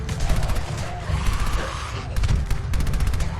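Sustained gunfire aimed at a horde of ghouls in Fallout 4, with loud, dense, continuous shots and booms that come in clustered bursts, each one close and harsh.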